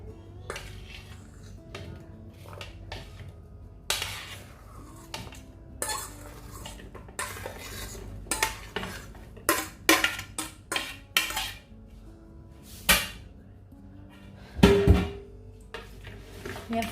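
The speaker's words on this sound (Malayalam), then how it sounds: "ഞാൻ ഈ കട്ട് വെച്ചിരിക്കുന്ന ഫ്രൂട്ട്സ് എല്ലാം കൂടെ നമുക്കൊരു ബൗളിലേക്ക് ഇടാം" Cut fruit pieces for a fruit salad drop into a bowl, a run of irregular clinks, taps and soft thuds from utensils and dishes, close and moderately loud against a quiet background.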